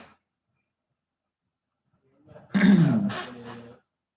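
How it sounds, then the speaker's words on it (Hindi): A man coughs and clears his throat near the microphone during a physics lecture, a brief loud burst of a second or so after a stretch of silence. "ये खांसी के लिए माफ़ी"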